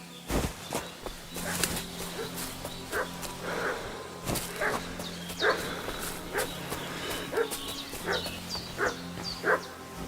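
A dog in the video game Kingdom Come: Deliverance II barks repeatedly and steadily for ten seconds, mid-distance and fairly loud, with faint footsteps and ambient noise underneath.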